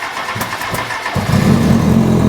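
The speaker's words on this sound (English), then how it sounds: "I gotta pull the clutch in, hit the starter switch." Kawasaki ZX10R sport bike engine starting after cam sensor work: a short burst of starter cranking, then the engine catches and settles into a loud, close, rough idle.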